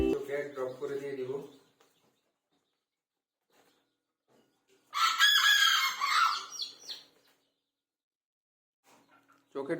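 Chickens being vaccinated against Ranikhet disease with eye drops give a loud, squawking burst of fowl calls lasting about two seconds, midway through. A person talks before the calls, and the rest is quiet.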